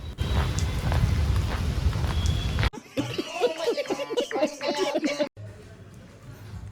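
Heavy rain pours steadily in Vadodara, then voices talk briefly over it before the rain returns, quieter and more distant.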